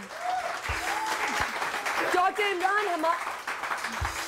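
Studio audience applause on a Pakistani morning show welcoming a guest, a steady wash of clapping heard under a voice and other talk that continue throughout.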